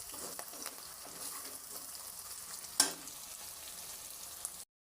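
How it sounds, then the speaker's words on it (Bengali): A vegetable frying in hot oil gives a steady, soft sizzle with a single sharper clatter near the middle, close but fairly quiet, with no voices, before it cuts to silence. "আমি এইভাবে কিন্তু এটাকে খুব সুন্দর করে এখন ভাজবো"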